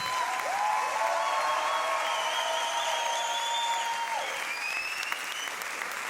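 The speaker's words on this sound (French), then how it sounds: "S'il vous plaît, on les applaudit très fort." Audience in a French show applauding loudly, a dense sustained clapping wash close by that tapers slightly toward the end, with whistles or cheers over it and no talk.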